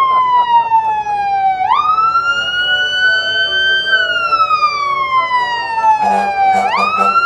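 An ambulance siren wails loudly and close during a holiday parade, sweeping slowly up and down in long cycles with a sharp jump at each turn, while vehicle noise rumbles underneath.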